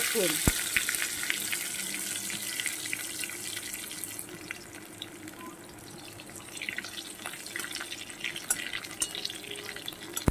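Garlic frying in a pan makes a loud, continuous close-up sizzle. The crackling hiss holds steady for about ten seconds with no talk over it.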